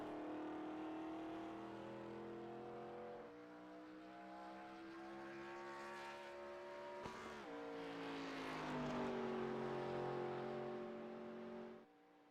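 A stock car in qualifying at Talladega, the 05 machine, accelerates up to speed: one strong engine drones and climbs in pitch through several gear changes, then fades off at the end.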